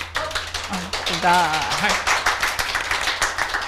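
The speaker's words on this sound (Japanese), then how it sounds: "今日どれだけさ お客さんがいるか拍手" Studio audience clapping on a live Japanese variety show, a dense crackle of many hands building under a voice and then continuing steadily on its own.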